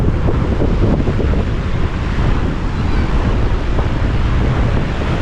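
Constant roar of sea waves surging and breaking on the Dwarka coast, loud and close, with blustery wind buffeting the microphone throughout.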